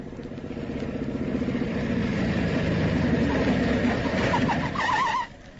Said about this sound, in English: I heard a motorcycle roaring along the road.